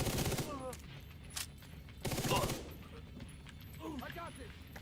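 Gunfire in a shooter video game, Warframe or The Division 2: a few loud bursts of rapid shots with quieter stretches between them, and someone talking over the action.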